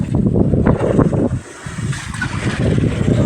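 On a fishing boat at open sea, strong wind and big waves make a loud, continuous rumbling roar with gusting wind buffeting the microphone, briefly easing before surging again.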